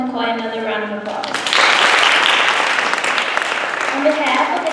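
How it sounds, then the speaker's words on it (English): Audience breaking into broad, sustained applause for a lecturer after a hazing prevention talk, rising quickly after a voice and holding steady to the end, with a speaking voice returning faintly underneath. "let's give Dr. Smith-McKoy another round of applause"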